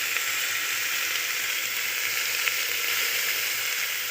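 Ginger paste sizzles in hot oil alongside onion for a vegetable chicken stew, a steady close bright frying hiss with small crackles and one sharper pop, no voices over it.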